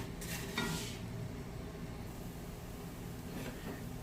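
Namkeen sawiaan vermicelli frying in a pan, giving a steady low sizzle with a few soft stirring scrapes near the start and again toward the end, fairly quiet and with no voices.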